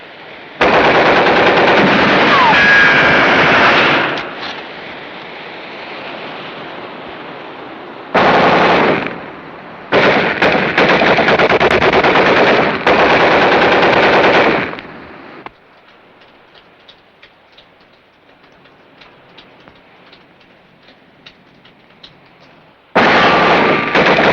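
Machine gun fire in a 1952 Second World War film, loud sustained bursts of automatic fire broken by short pauses, with quieter rattling stretches between the heavy volleys and no talking.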